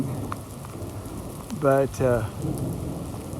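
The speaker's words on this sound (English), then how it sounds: "we're in a rainstorm and thunder" Steady rain falls in a thunderstorm while someone shelters under a tree in a rain suit on the Great Divide trail, a constant wash of rain with low rumbling and someone speaking briefly.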